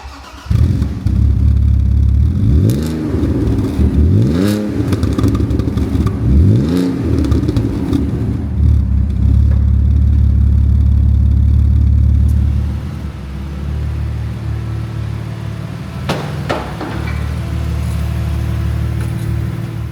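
A car engine idles and revs up and down several times nearby, then settles into a steady rumble with a few clicks near the end.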